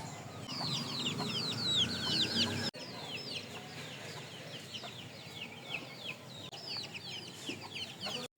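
Hens clucking at a rural home, a busy flock giving repeated short clucks and calls close by, continuous throughout with a soft background hum.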